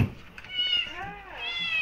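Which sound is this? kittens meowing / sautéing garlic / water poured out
kittens meowing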